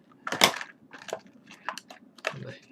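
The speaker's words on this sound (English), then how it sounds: "When the box cutter fails, bring up the scissors." Scissors snipping through the plastic packaging on a miniature figure box, a few crisp irregular crunches and cuts spaced across a quiet background, close and fairly soft.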